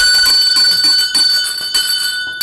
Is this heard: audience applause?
no